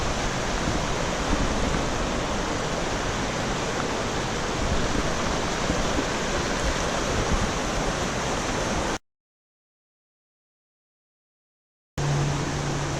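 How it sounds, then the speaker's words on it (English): Jack's River in the Cohutta Wilderness rushes steadily, a loud, even roar of flowing water that cuts to silence for a few seconds before resuming. "we made it to the river, Jack's River"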